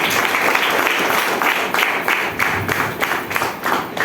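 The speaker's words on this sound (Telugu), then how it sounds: "గ్రేట్ క్లాప్ చేయండి." A seated audience at a Vestige business plan meeting claps together, with dense, steady applause from many hands that stays fairly loud and continuous throughout, with slight surges in intensity.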